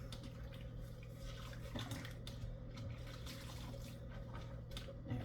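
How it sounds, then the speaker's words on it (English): A rag is rinsed in water while cleaning an oven top, giving faint soft splashing and trickling under low background hum, with no voices. "so we're going to rinse the rag one more time"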